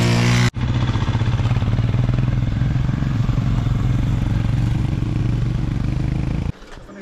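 Right after starting, an engine settles into a steady, rumbling idle with a low throb and some rattling clatter. It runs continuously and close for several seconds, then cuts off near the end.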